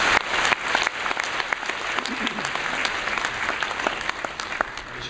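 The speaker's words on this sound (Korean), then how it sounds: "우리 인생을 채우실 주님께 영광 박수를 드리겠습니다." A church congregation gives a round of applause during worship, dense clapping of many hands in a reverberant hall, fairly loud and sustained with no talking.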